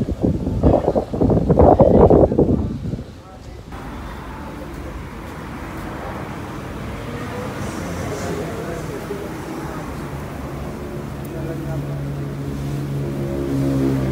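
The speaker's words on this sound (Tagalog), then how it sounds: "napakalakas ng hangin dito sa Dolomite Beach ngayon" Strong wind at Dolomite Beach roars steadily across the microphone, a constant rushing buffet that follows a few seconds of a person talking.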